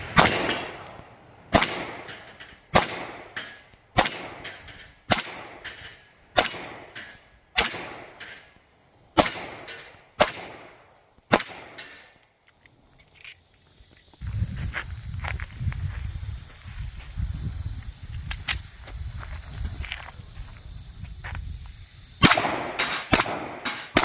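Dan Wesson TCP 9mm 1911 pistol firing at a range, a string of sharp loud shots at steady intervals, then a pause filled with rustling handling noise before two more closely spaced shots.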